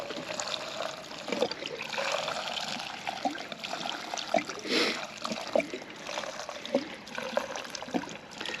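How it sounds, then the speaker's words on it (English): Recycled junkyard gasoline glugs from a can through a funnel during work on a 2010 Ford Ranger, a steady close trickle and splash with small gurgling bursts, no talk. "I might not be able to pour a can of gas out."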